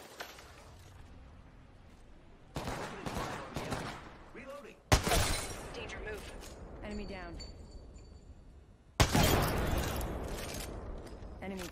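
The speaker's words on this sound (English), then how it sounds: "Opening fire on the enemy." Gunfire in the video game Apex Legends comes in sharp bursts and rapid volleys close in the mix, with a player talking over it.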